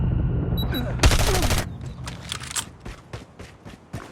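A STEN submachine gun fires a rapid burst in the mobile shooter Call of Duty Mobile, followed by several scattered shots and clicks, loud and close.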